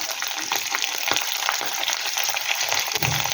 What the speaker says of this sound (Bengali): শুটকি মাছটা ভালো করে ভেজে নেব।